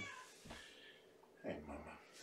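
Kittens in a kennel give soft, faint meows, with a clearer mew-like call rising near the end over low room noise and some voice.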